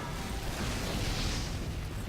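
A rumbling, roaring explosion blast from the Team Fortress 2 game, broad and steady at moderate loudness for about two seconds, with no talk over it.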